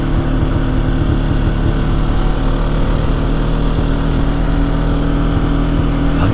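A quad bike engine drones steadily and loudly at close range, holding an even low rumble with no pauses.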